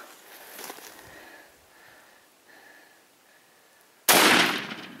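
A single loud, sharp rifle shot cracks out near the end during a Cape buffalo hunt in Africa, after several seconds of quiet, faint background sound.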